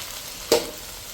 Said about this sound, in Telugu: ఇప్పుడు మనం ఆల్రెడీ వాష్ చేసి పెట్టుకున్న చికెన్ని ఇందులోకి యాడ్ చేసేద్దాం